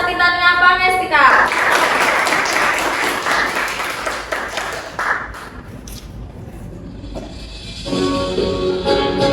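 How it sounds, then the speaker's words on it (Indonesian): An audience claps at a Hari Santri commemoration event, a burst of applause rising after a voice and fading over several seconds before speech resumes. "Beri tepuk tangan yang meriah untuk saudari Clarissa Titania Pangestika"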